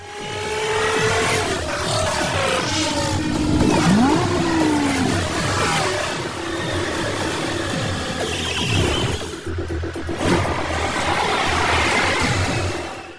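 Race car engines roar as a film race gets underway, a loud continuous drone with rising and falling revving sweeps and passing-car pitch shifts throughout, with no talk.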